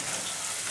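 Chopped onion and green chillies frying in mustard oil, a soft continuous sizzle with even crackle and no talk, brief and fairly quiet.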